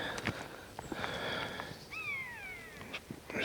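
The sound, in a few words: buzzard calling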